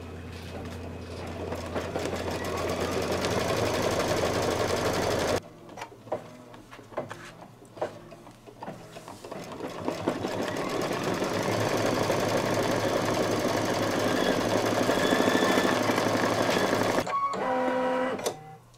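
A home embroidery machine stitches a white-thread placement line for the face on a Santa table runner, a loud steady mechanical whirring and tapping that pauses briefly with clicks before resuming for a long continuous run.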